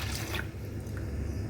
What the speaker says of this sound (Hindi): मैं अब कड़ी के अंदर तकरीबन 3 लीटर पानी डालूँगी